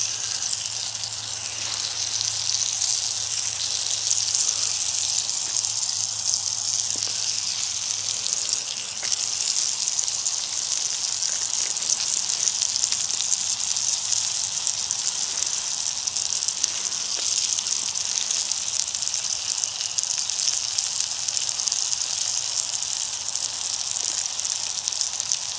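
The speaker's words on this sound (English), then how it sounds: "Bacon sizzling." Bacon sizzling over a campfire on a frosty, damp morning outdoors: a steady, dense hiss and crackle that runs unbroken throughout, with no talking.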